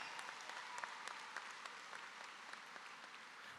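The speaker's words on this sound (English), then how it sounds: "That's worth a round of applause" Applause from the audience at a high school graduation ceremony, a steady wash of many hands clapping, moderately distant and fairly faint, lasting throughout with no voices over it.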